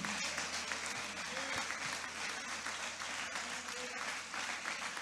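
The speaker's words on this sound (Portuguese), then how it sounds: "Aplaude a Jesus aí." Church congregation clapping in praise, a continuous mid-level round of applause with voices mixed in underneath and occasional louder claps standing out.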